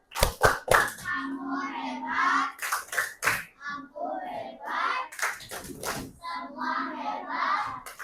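Children in a fourth-grade classroom do a rhythmic clapping cheer, sharp claps in quick bursts alternating with pauses where children's voices chant and talk, close and fairly loud.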